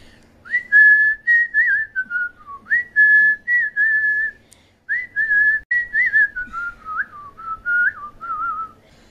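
A single person whistles a melodic tune alone, clear and close, in phrased bursts with short breaths between notes and a brief pause midway.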